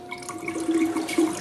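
Water runs briefly from a tap on hot tub plumbing, a short, soft gush that swells slightly toward the end.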